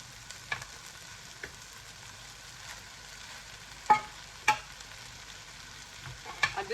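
Prawn fried rice sizzles softly in a pan just after the rice goes in, a quiet low crackle broken by several sharp scraping and stirring knocks, with no talking.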